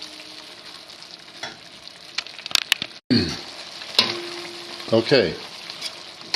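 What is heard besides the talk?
vegetables cooking in a pan for pasta with cream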